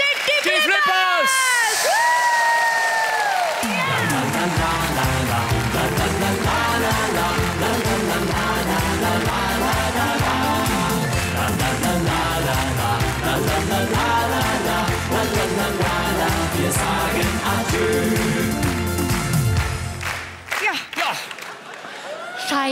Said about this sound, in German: begrüßt bitte mit einem riesigen Applaus